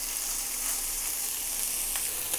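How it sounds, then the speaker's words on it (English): Beef sizzles steadily in a pinch of oil on a hot grill pan for a Korean dinner, a continuous close crackling hiss with no talking. "Some nice beef that we can just simply grill."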